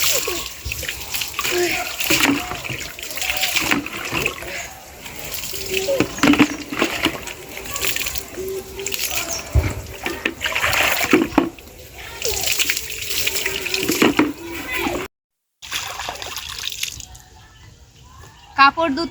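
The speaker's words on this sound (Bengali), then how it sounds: "মিহিরের কিছু কাপড় আছে এগুলো এখন খেঁচে খেঁচে ধুয়ে দিব" Clothes are scrubbed and wrung by hand in water in a village home, with steady sloshing, splashing and dripping that runs continuously for a long stretch, close by, briefly cut out near the end.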